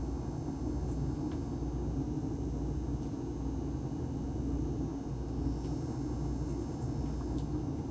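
Dual electric motors on an ebike run on the throttle during a test, making a steady low hum and rumble that holds evenly throughout, close by and alone.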